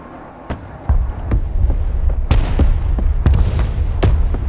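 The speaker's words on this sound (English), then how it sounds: "That's why I don't mind taking a long time to do this, because I'm just using artillery." Artillery fires in the video game Broken Arrow, with heavy guns such as 120s and 105s. Several loud, sharp booms land at irregular intervals over a dense, rumbling battlefield background, with no talk.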